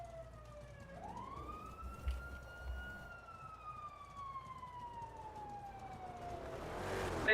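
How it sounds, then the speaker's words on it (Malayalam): A police siren in a video game wails in a long, faint rising-and-falling sweep, with low background rumble and a brief noisy burst at the end. "സൈറൻ നിങ്ങൾക്ക് കേൾക്കുന്നുണ്ടോ?"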